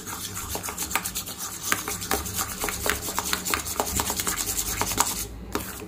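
Homemade Vaseline being stirred by hand until smooth, giving a rhythmic close rubbing and scraping that repeats steadily throughout, with no talking.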